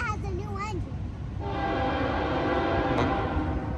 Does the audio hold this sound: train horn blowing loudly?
yes